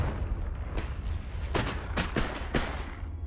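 Confringo blasting spell explosions in Hogwarts Legacy, a series of sharp booming thumps over a dense rumbling background.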